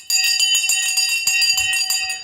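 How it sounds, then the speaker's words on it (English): A bell rung during a live stock market show rings clearly and loudly with repeated quick strikes, and its bright tone sustains through the whole moment. "The bell has just gone."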